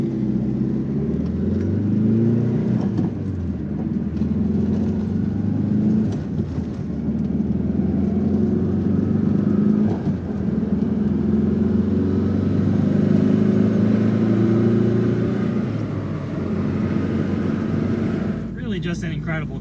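A 500 horsepower car engine idles and creeps along in stuck traffic with a deep, steady rumble and occasional light throttle swells, with talk running over it.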